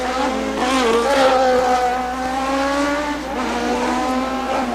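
A Toyota Atlantic race car runs on the Toronto street circuit in a 1990 championship race, its engine a loud sustained whine with shifting pitch as it drives, steady throughout without talk.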